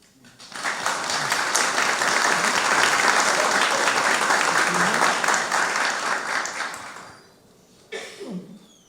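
Applause from an audience at a Rio de Janeiro legislative labour committee hearing on a 2014 fire brigade recruitment exam, a steady dense clapping lasting about six seconds before fading, then a brief burst of noise and voices.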